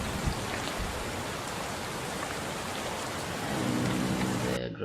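Steady heavy rain from an Unreal Engine 4 dynamic weather system hisses continuously and loudly, swelling slightly near the end before cutting off abruptly.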